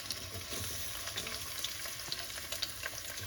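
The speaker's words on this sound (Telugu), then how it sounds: "ఆయిల్ వేడెక్కింది. ఫస్ట్ కొన్ని రొయ్యలు వేసుకుందాం." Prawns frying in hot oil in a home kitchen pan, a steady low sizzle and crackle with small pops, faint and continuous with no talking.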